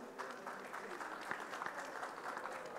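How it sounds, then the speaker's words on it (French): A conference audience at a session on international decarbonisation applauds the Tunisian economy and planning minister, a soft, steady patter of clapping from a moderately sized crowd with a few sharper individual claps. "que je vous demande d'applaudir"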